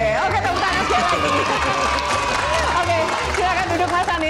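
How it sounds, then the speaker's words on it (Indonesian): A studio audience at a Q&A event with Anies Baswedan claps steadily and loudly, with cheering and chatter mixed through the applause. "Oke, tepuk tangan sekali lagi."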